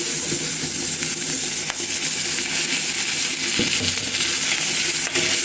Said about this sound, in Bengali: আলু ভাজি করব তেল দিয়ে নেই